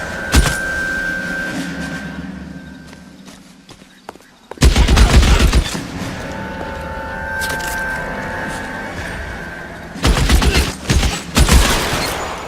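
Gunfire in an L.A. Noire shootout: loud bursts of rapid shots and a fusillade that break off, then return in a second heavy volley, with music and game sounds underneath.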